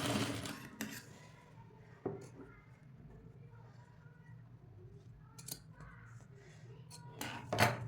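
A sewing machine runs in short bursts, stitching folded blouse fabric for a cutwork designer blouse. Faint motor whirring is broken by sharp clicks and handling knocks, and someone talks quietly throughout.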